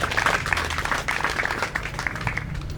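An audience applauds for the Belgian government and people at a formal Burundian ombudsman event, a steady, moderately loud patter of many hands clapping together throughout the short stretch.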